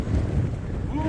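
Strong winter wind buffets the microphone outdoors on a windy day at a model airplane flying field, a close, loud rumbling gust with a faint motor whine rising near the end.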